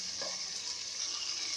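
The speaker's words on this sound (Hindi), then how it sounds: "अब हम इसको भूनेंगे 1 मिनट तक, ताकि लहसुन का भी अच्छा सा फ्लेवर आ जाएगा इसमें।" Garlic sizzling in oil in a pan while being fried for beef nihari, a steady bright crackle and hiss with no voices.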